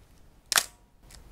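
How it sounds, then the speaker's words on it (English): A metal focal-plane shutter fires on a K-mount SLR camera: a single crisp, close mechanical snap, followed by a fainter second click a moment later, in quiet surroundings. "But there's something nice about a nicely engineered metal shutter,"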